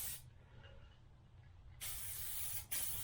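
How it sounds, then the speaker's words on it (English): Glidden rattle-can paint hisses from an aerosol can onto motorcycle parts in two bursts, the first long and steady, the second short after a brief gap, close and alone. "So you notice I'm going at it and then overlapping those spray patterns."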